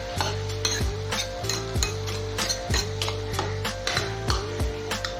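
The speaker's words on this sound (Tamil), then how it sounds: "இது கொஞ்சம் வதங்கினா போதும்." Eggplant, drumstick and raw mango sautéing in a pan for vegetable sambar, with repeated stirring strokes scraping through a steady low sizzle, close and moderately loud, no talking.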